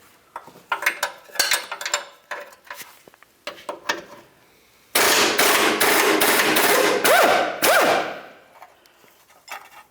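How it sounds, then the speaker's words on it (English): Sharp metallic ratcheting and clanking from an 18mm wrench working the rear control arm bolt and nut of a 2010-2013 Nissan Versa. Scattered taps come first, then a loud, rapid run of close clicks, with no talking. "To remove the rearward bolt, we're going to come from underneath it with an 18mm"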